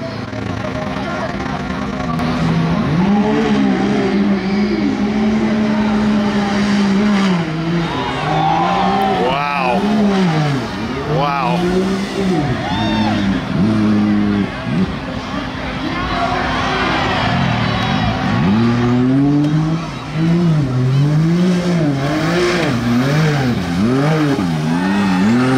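A high-horsepower race car on nitrous roars through repeated rising and falling revs at a drag strip, loud and sustained throughout, with crowd noise and voices mixed in.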